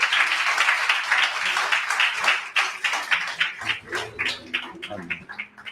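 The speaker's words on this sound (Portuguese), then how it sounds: "Dê um aplauso a Jesus." A church congregation claps together, a dense burst of applause that thins into scattered, uneven claps toward the end.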